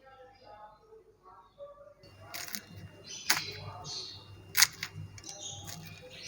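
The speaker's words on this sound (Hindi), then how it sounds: "मैं आपको अभी तोड़ के भी दिखाऊंगी, आप इसकी आवाज़ चेक कीजिएगा कितने खस्ता, कितने क्रिस्पी और क्रंची" Sharp, crisp cracks and crunches of a fried samosa being broken apart, a few distinct snaps against a quiet background.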